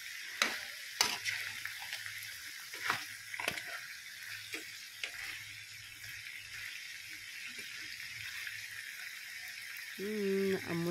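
Adobo pork ribs sizzle in a pan with a quiet, steady frying hiss, broken by several scraping strokes of a spoon stirring the meat, and a voice briefly speaks near the end.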